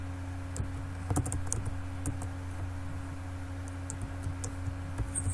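Keys click on a computer keyboard as text is entered in a Wix site editor, a close run of light, uneven taps over a steady electrical hum with no voices.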